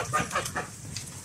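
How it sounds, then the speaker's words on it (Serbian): French geese calling on a farm: a quick run of short, close honking calls in a brief burst, heard alone. "Francuske guske."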